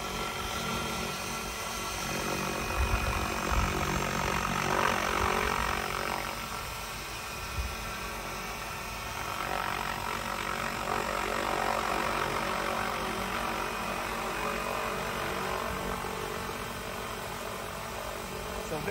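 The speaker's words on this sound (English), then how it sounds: "you can hear the blades biting in the air too" An Azure 700S RC helicopter hovers with its rotor blades cutting the air, giving a steady continuous whir with a low engine hum that swells and eases slightly throughout, heard alone at moderate distance.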